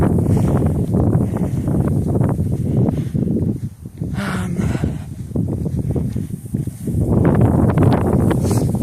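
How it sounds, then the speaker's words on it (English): Strong outdoor wind buffets the microphone in loud, uneven gusts that swell and ease, with a brief lull near the middle before building again. "The wind is a bit hazardous."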